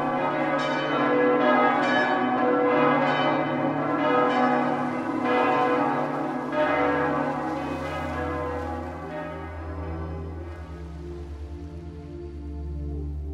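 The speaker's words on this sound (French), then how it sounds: "toutes les cloches du temple englouti se mirent à sonner" Several church bells ring together in a rich, overlapping peal, resonant tones sustaining and blending, gradually settling into lower humming tones.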